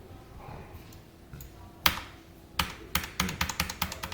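Keys clack on a computer keyboard as an SQL query is typed, a single sharp tap followed by a quick burst of rapid close keystrokes near the end, alone in a quiet room.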